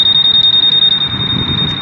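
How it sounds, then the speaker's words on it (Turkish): A Honda PCX 125 scooter's factory alarm sounds a loud, steady high-pitched electronic tone with a rapid pulsing warble, continuous and close by with no talk. "Alarm sesini de göstereyim size"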